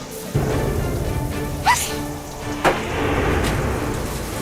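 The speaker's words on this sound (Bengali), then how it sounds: "বৃষ্টি থামার তো কোনো লক্ষণই দেখি না" Heavy rain pours steadily at night in a street, a broad constant wash with a couple of sharp brief cracks rising above it.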